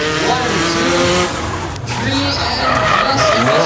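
Tires of a drift car at a King of Drift Asia event squeal and skid loudly under a revving engine, sustained with a brief dip midway, while a commentator talks over it.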